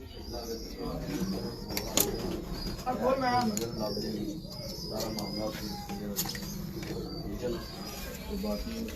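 Fancy rooftop pigeons, including Teddy and golden pigeons, coo softly in a loft with a few wing flutters and clicks, while someone talks over them at moderate volume throughout.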